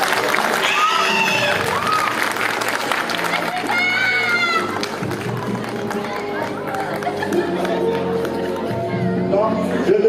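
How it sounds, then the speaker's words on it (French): Audience applause at a French-speaking Indian cultural fair, a dense, steady wash of clapping that runs the full length, with voices and crowd chatter layered on top throughout. "Applaudissements, s'il vous plaît."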